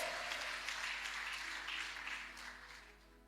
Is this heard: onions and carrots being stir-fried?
no